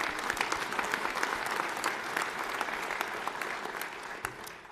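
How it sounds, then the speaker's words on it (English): Audience in a hall applauding during New Mexico's 2025 State of the State address, a dense, even clatter of many hands that holds steady and then tapers slightly near the end. "You can clap for that."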